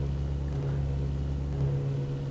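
A weak car engine in a mafia shootout video game drones with a steady low hum, slightly rising near the end, heard alone at moderate level.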